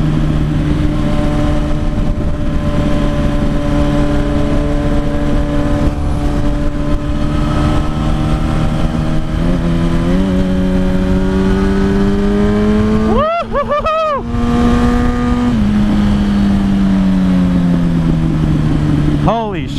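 Unrestricted Yamaha R1 sport motorcycle accelerating hard on a test ride, with a loud, close engine whose pitch climbs steadily through the gears, broken by a brief shift gap, over wind noise and an excited rider's voice.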